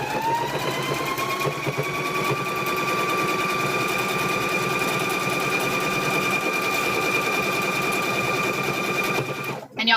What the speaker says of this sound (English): now we're going to stitch across